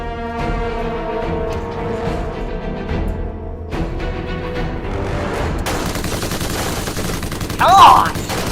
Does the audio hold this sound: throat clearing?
no